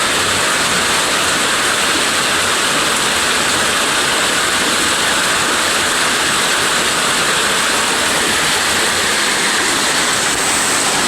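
Uwan Uwanan Falls roars with a steady, broadband rush of falling water, loud and continuous throughout, with no voices over it.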